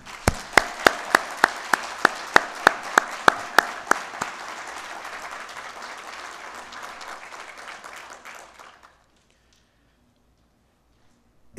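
An audience at an academic lecture applauds warmly. Sharp, evenly spaced claps from someone nearby stand out over the broader crowd clapping at first. The applause then thins and fades out, leaving silence.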